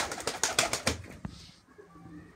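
Arab crested high-flyer pigeons, a pair with their young, give a burst of close wing flaps and rustling followed by a soft, low cooing.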